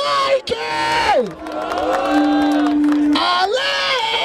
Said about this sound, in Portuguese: Barulho para as rimas de Mike!